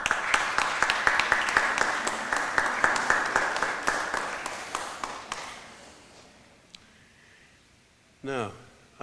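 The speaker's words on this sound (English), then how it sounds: "express thanks, for the support that you've received over the years by acclamation, applause or cheers or however you like" Applause at a Griffith College Cork graduation ceremony in 2025: a hall full of dense, rhythmic clapping that gradually thins and fades over several seconds, followed by a brief high chirping sound near the end.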